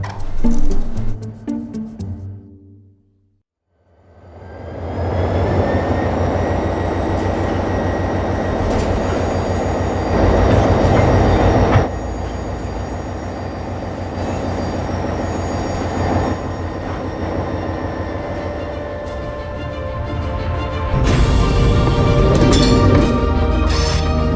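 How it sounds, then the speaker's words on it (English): A train rolls steadily on rails, loud and close, with a low rumble, rhythmic clatter and high metallic whine; it starts up after a brief quiet. "Once the train starts to move"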